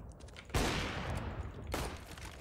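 Gunfire in Counter-Strike: Global Offensive from a player shooting on the move, with two loud, close bursts of rapid shots, the second following about a second after the first ends.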